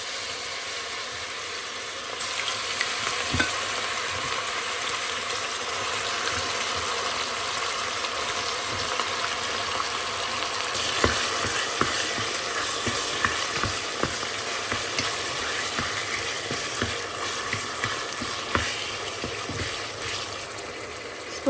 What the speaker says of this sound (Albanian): Vaj është nxehur, tash marrim pra mishin edhe qesim.